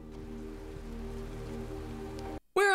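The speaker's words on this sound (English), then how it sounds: "Why is it always raining?" Steady rain falling on surfaces in a film scene, a dense even patter with a low hum beneath, then a brief silence and a sudden burst of a different tonal sound at the end.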